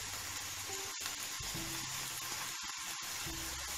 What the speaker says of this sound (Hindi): प्याज को 1 मिनट ही फ्राई करेंगे और इसमें डाल देंगे टमाटर और साथ ही में डाल देंगे इसमें हरी मिर्च।